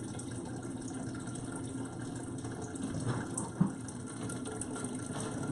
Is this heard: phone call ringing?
no